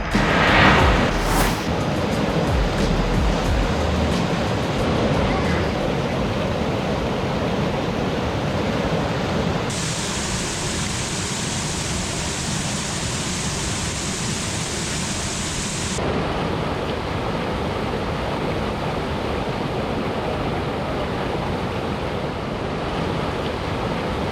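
A mountain stream along the Chimney Tops Trail rushes and flows in a steady, broad wash of water noise, close and continuous, with some wind buffeting the microphone.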